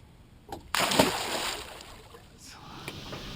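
A blue catfish is released back into the water with a sudden close splash, followed by fading sloshing and dripping.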